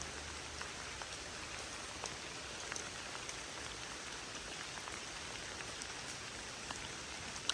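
Steady rain falls outdoors on a wet evening, a dense, even patter with scattered sharper drops striking nearby surfaces, continuous and unbroken throughout.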